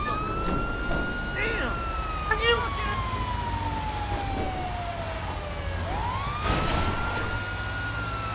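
A fire truck siren in Grand Theft Auto V wails in a long falling sweep, then rises again, over steady engine and traffic rumble while someone talks excitedly.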